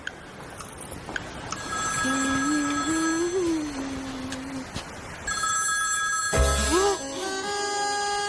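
A telephone rings in bursts of bright electronic trills with pauses between, mixed with a melodic film score and brief rising tones.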